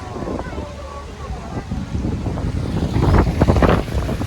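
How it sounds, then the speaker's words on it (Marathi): Steady wind rushes and buffets against the microphone, growing stronger toward the end, with faint voices underneath, outdoors during the Ganesh festival in Edgaon, Vaibhavwadi, Konkan. "मस्त वारा सुटला आणि मस्त वातावरण"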